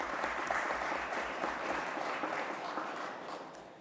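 Audience at a legislation signing for Governor Andrew Cuomo applauds, a soft, dense wash of clapping from a crowd at a moderate distance, holding steady and then easing off slightly toward the end.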